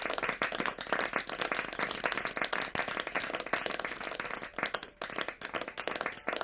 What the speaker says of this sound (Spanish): os pido un aplauso importante para José Luis